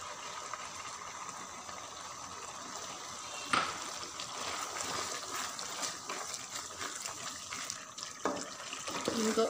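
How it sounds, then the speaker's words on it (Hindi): Cooking oil is poured into a pot for black chickpea curry. It makes a soft, steady liquid pour with faint splashes, and light clatter sounds in the background. "एक कप इसमें ऑयल डालने लगी हूँ।"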